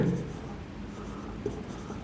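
A marker or chalk scratches across a board while a lecturer writes during an organic chemistry class, making a short close stroke followed by a faint second touch, with no speech over it.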